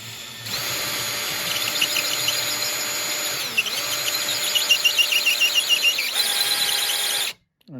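A drill bit bores out a rivet on an Apple IIGS floppy drive port, a steady high whine lasting about seven seconds. The pitch dips midway, then wavers before it cuts off abruptly.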